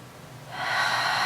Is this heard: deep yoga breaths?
yes